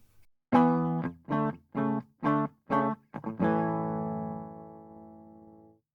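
An electric guitar played with a V-Pick Light Tradition gives a clean reference tone in a vintage style: five short chopped chords in a steady rhythm, two quick stabs, then one long chord ringing out and fading, loud and close.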